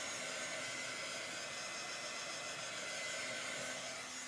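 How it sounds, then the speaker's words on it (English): A hair dryer blows steadily to dry chalk paste on a Chalk Couture sign, a continuous even whoosh and whir that runs unbroken throughout, with no talking. "Okay, so I am just drying my chalk."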